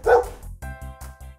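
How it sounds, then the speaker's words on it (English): A dog barks at a space-themed playground, a loud, close run of about six sharp barks in quick, fairly even succession, alone without any talking. "Look! A dog in a spacesuit!"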